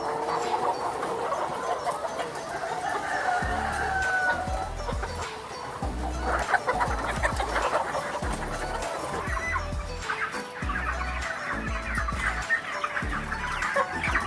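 A poultry layer house holding 1920 young laying hens that have recently started laying fills with steady clucking and murmuring, plus occasional louder squawks and a rooster-like crow, all continuous and fairly close.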